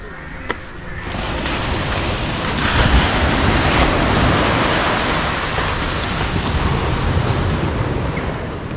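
Steady roar of sea surf washing onto Cherai beach near Kochi, broad and continuous, with wind buffeting the microphone throughout.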